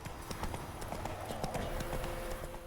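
Horse galloping across swampy ground in The Witcher 3, rapid clip-clop hoofbeats in a steady running rhythm, fairly quiet and continuous throughout.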